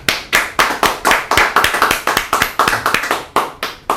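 An audience claps in support of Atomy at a church-style talk, a quick run of sharp, evenly paced hand claps, close and loud, without speech.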